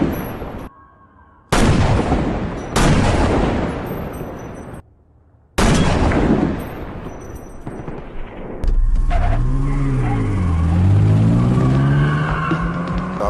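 Loud gunfire from a sniper attack in an action film, with a man shooting five people at random from atop a building: heavy, booming shots with long decaying tails, separated by brief silences, then a sustained roaring, whooshing passage.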